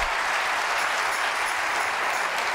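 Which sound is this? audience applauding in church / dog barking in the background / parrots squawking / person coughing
audience applauding in church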